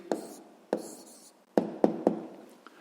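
Short bursts of pen or pencil writing on paper, five or six brisk scratchy strokes separated by brief pauses, close and fairly quiet.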